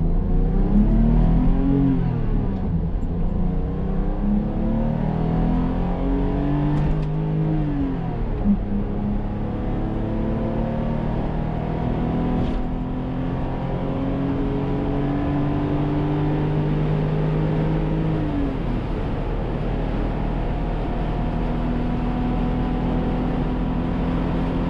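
A 1985 BMW M635CSi, an E24 coupe with a new gearbox, drives at speed with its engine loud and close, rising in pitch through several upshifts with short dips between gears, and no talking.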